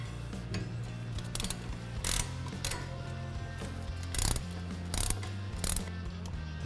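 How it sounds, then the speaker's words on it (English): A 17mm socket on a ratchet snugs bolts holding a brake caliper bracket to a wheel hub. Close-up rapid pawl clicking comes in short bursts separated by brief pauses, with no talking. "Take our 17mm socket and ratchet. I'm just going to get it snug right now."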